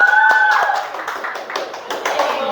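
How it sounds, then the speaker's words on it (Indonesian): Students in a classroom clap for a presenting group, a scattered round of applause with sharp taps, under a voice talking over it. "tepuk tangan dulu untuk kelompok 2, kasih semangat."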